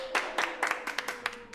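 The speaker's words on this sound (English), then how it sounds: "joining me in rapturous applause as we thank the" Scattered claps from a studio audience thanking a live swing orchestra at Abbey Road, a thin patter of hand claps in uneven bursts, moderately faint and fading in and out.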